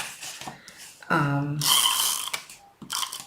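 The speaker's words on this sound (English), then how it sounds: "I love the sound of the tape runner" A tape runner dispensing tape during quilt matting gives a close ratcheting, gear-like whir in short bursts between quieter pauses.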